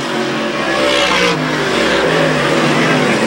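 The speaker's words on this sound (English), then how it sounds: "Leading the dirt car modifieds in this first qualifier." Dirt modified race cars race in a qualifier at Airborne Speedway in Plattsburgh, New York, engines roaring loud and close as they rev and pass, the pitch shifting as one car goes by, with no talk over them.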